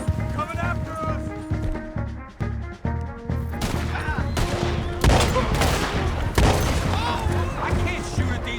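Gunfire crackles in a Red Dead Redemption 2 shootout, a rapid, dense fusillade of shots mixed with galloping hooves and an occasional whinny, with shouting voices over the din throughout.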